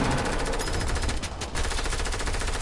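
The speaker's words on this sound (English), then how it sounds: "They're shooting it down." Rapid automatic gunfire from a building-and-shooting video game rattles in a dense, continuous burst, loud and close, with no talk over it.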